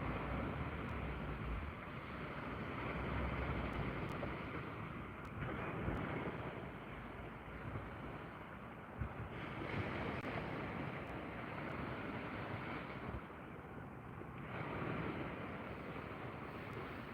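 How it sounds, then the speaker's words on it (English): Sea waves wash and wind rushes steadily around a kayak on a sea fishing trip, a constant broadband hiss with gentle swells and occasional small knocks, and no voices. "It's the sound of the waves, isn't it?"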